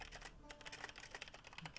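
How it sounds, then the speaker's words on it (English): Rapid, steady clatter of computer keyboard typing, close by and fairly quiet, with keystrokes tapping in an uneven continuous rhythm. "You're typing too loud."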